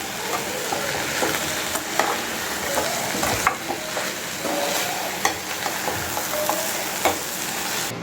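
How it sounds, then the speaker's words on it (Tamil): Broad beans poriyal with grated coconut is stirred in a hot pan, giving a steady sizzle under repeated scraping spatula strokes, close and fairly loud, with no talking. "எல்லாத்தையும் ஒரு வாட்டி நல்லா கிளறி விடுங்க."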